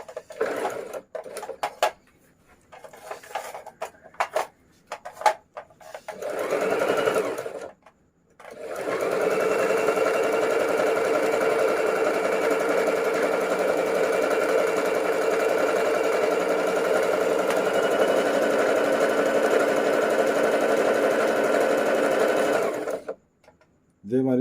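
A Singer 3221 sewing machine stitches zigzag in one long, steady mechanical whir that runs for about fifteen seconds, after a stretch of scattered handling noises and short bursts.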